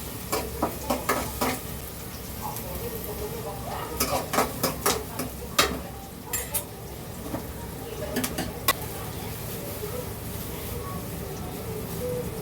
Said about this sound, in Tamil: பொரியலுக்கு பார்த்திங்கன்னா கொஞ்சோண்டு வெங்காயம், பூண்டு, பச்சை மிளகா இது நல்லா போட்டு நல்லா ஃப்ரை பண்ணிவிட்டு நல்லா வதக்கி எடுத்துக்கிறேன்